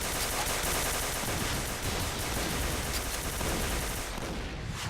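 Continuous automatic gunfire roars without pause from a shooting video game, a dense, loud, unbroken burst of rapid shots filling the entire stretch, easing only slightly at the very end.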